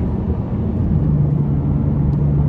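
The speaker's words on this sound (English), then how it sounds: "And this exhaust really does this car justice." A tuned 664 hp 2017 McLaren 570S sports car on a test drive, its exhaust giving a loud, steady low drone that rises slightly in pitch partway through, heard from inside the car without any talking.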